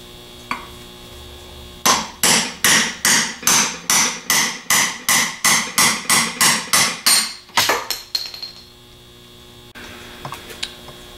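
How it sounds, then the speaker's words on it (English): Fifteen or so sharp, evenly spaced metal hammer blows drive a bushing out with a half-inch extension while rebuilding a 42MT, struck close and loud in a steady rhythm, then a few scattered taps over a low hum. "Now we want to drive the bushing or the bearing out."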